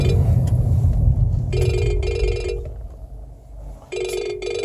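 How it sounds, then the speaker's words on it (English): A telephone rings twice in electronic trilling bursts, fairly close, over a low rumbling background hum that fades between the rings. "sorry about that phone call"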